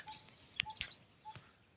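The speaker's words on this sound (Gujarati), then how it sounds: "ચકલા બકલા બોલે અટાણે" Faint, quick sparrow chirps and tweets, a handful of short sharp notes scattered irregularly in a quiet outdoor setting.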